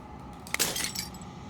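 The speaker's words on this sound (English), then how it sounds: "As the final fragment of glass shatters, you see yourself with a newfound clarity." A single sharp crack of breaking glass in the video game Slay the Princess, followed by a brief tinkling scatter of fragments over a low, steady ambient hum.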